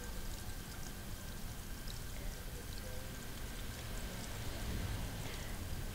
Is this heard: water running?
yes